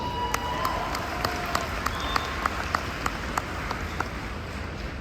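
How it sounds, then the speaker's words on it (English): Fans in a convention panel audience applaud, a broad steady wash of clapping with a few sharper, regularly spaced claps standing out above it. "Give yourselves a round of applause."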